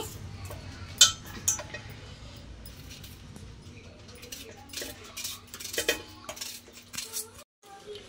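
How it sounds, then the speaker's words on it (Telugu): A knife cutting onions on a board for onion pakodi, with scattered sharp clicks and taps of the blade against the board, close and fairly quiet, without talk. "ఇప్పుడు ఈ ఉల్లిగడ్డలు ఇలా కోసుకుంటున్నాం కదా, మొత్తం కట్ చేసేసి"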